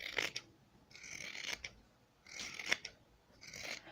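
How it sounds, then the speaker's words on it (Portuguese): Scissors snip through fabric for bunting flags being sewn, several crisp close cuts in uneven bursts with short pauses between, in a quiet room. "Eu vou cortar aqui, um pouco afastado pra não cortar a linha e estragar a minha costura."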